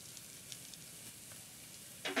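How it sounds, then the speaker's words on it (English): Melted butter sizzles softly in a pan: a faint, steady frying hiss that flares a little louder near the end. "We're gonna start out with some melted butter right here in our pan."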